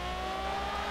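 Car engine droning steadily in the racing game The Crew while driving along a West Coast Orange County road, a continuous loud motor hum with no distinct crash impacts standing out.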